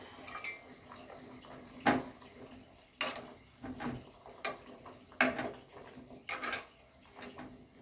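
A metal lid goes onto a cooking pot on a stovetop while raw mangoes are boiled for a drink, giving several sharp clinks and clatters spaced a second or so apart, faint and close, with no talking.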